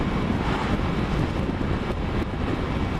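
Steady outdoor wind buffets the microphone with a continuous broadband roar, loud and unbroken throughout, with no voices.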